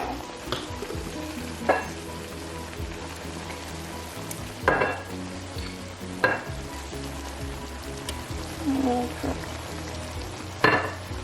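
Shrimp teriyaki stir-fry with sesame oil sizzles steadily in its sauce in a pan, a constant close frying crackle broken by occasional clinks and stirring scrapes, with no voices.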